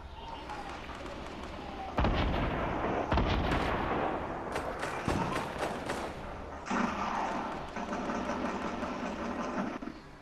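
Gunfire in the video game Fortnite, loud heavy bursts and thuds filling the scene, with a big blast near the start and sustained shooting throughout.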